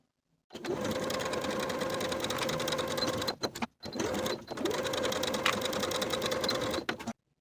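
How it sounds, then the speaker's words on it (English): Home sewing machine stitching the shoulder seams of a ballet wrap sweater bodice, two long continuous runs of steady, close motor whir and needle clatter with a brief pause between. "Sew each seam with a 3/8 inch seam allowance"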